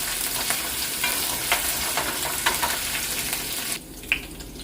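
Garlic and curry leaves sizzle steadily in hot oil in a pan while a spoon stirs through them with soft scrapes, and the frying hiss drops away near the end.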